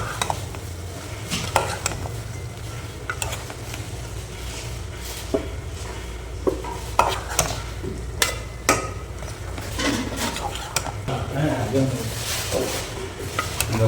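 A spoon stirring coriander powder into chicken and potato curry in a pot, with repeated sharp clanks and scrapes of metal over a low background sizzle and no talking.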